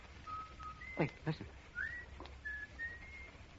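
A person whistles a short, wavering tune in a few sustained notes, faint and close, with brief knocks and a spoken word mixed in.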